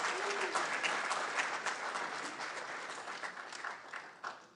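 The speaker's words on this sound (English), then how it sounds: "A big round of applause." Sustained audience applause at a live democracy-themed doctors' event in a hall, a dense, steady wash of many hands clapping that fades slightly toward the end.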